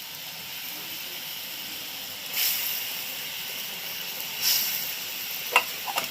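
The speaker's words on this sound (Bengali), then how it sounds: "দেখুন গ্রেভিটা ফুটে উঠেছে। এরপর আমি এর মধ্যে কোপ্তাগুলো দিয়ে দেবো।" A pot of gravy comes to a boil for potol koftas, bitter-gourd dumplings in a Bengali dish, giving off a steady close hiss and bubbling. A couple of soft surges and a few small clicks rise near the end, and no one speaks.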